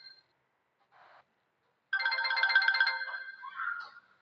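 A phone ringtone plays a short bright electronic melody for about two seconds after a faint earlier chirp, then trails off, clear and alone against silence.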